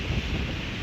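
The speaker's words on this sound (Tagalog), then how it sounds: "Ang ingay, ang lalaki ng mga alon." Strong wind buffets the microphone at a beach while big ocean waves crash nearby, a loud, dense, unbroken roar with no voices.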